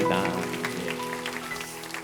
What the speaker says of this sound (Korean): 박수로 격려해 주시면 좋겠습니다